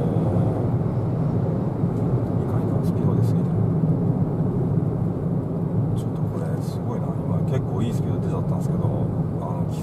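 Daihatsu Move engine revs rising smoothly in sport mode while the car sits without throttle input, a steady broad engine drone under continuous talk from people in the cabin.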